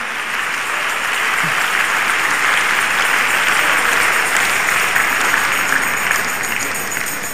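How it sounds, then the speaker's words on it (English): A church congregation at a public lecture claps hands together in a loud, sustained wash of applause that carries on evenly, with a faint crowd murmur underneath. "Let's clap our hands for the Lord Jesus."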